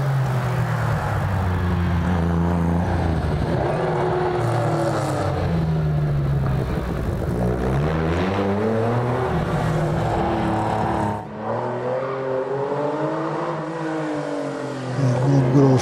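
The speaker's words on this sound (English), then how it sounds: "Danny Moore in the Ford Escort just left the start line." A Ford Escort race car pulls away from a hillclimb start line at the Legend of the Lakes event, its engine droning loudly and climbing through several revving gear pulls before fading, heard close and continuous.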